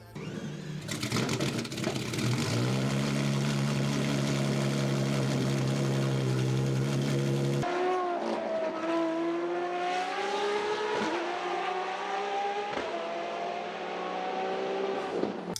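A Ferrari LaFerrari's 6.3-liter V12 hybrid engine holds a loud, steady high-pitched idle, then cuts sharply to a lighter, rising whine as it revs and pulls away, close by with no talk.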